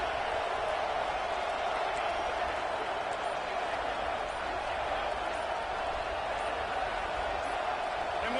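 Dense, steady roar of a big stadium crowd at an American football game, loud and continuous throughout with no clear breaks, a broad wash of cheering and noise filling the space.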